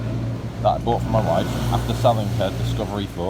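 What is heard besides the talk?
bus driving past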